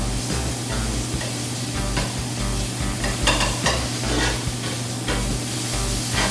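Sausages sizzle and crackle steadily in a hot frying pan, with a constant hiss and occasional stirring scrapes, close up.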